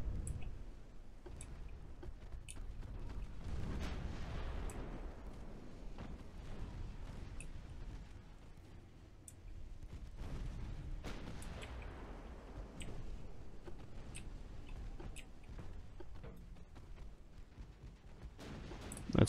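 Naval guns firing in the warship battle game Ultimate Admiral: Dreadnoughts, a faint, distant series of muffled booms and rumbles spread out over a steady low background, with scattered small clicks.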